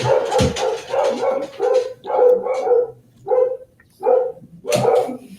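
Several dogs bark from upstairs in a house, a run of repeated loud barks in uneven bursts with brief pauses, fairly close and without talk over them.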